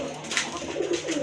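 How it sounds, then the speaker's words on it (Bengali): A fancy pigeon coos softly in a cage close by, one or two low throaty calls over faint background noise. "এই হচ্ছে কবুতরটা কোয়ালিটি দেখতে পাচ্ছেন"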